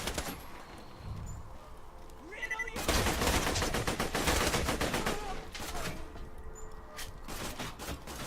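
Shotgun and other gunfire in the video game Borderlands 2, a loud burst of rapid, dense shots around the middle followed by scattered repeated blasts over a steady game backdrop, with a voice speaking faintly underneath.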